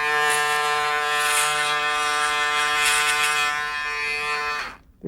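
An electric razor buzzes steadily and loudly close up for nearly five seconds, a constant harmonic drone with no gaps, then cuts off abruptly at the end.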